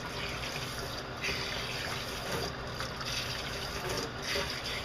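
Steady running water rinses conditioner out, a continuous close hiss and splash like a tap flowing without pause, with no clear talking over it.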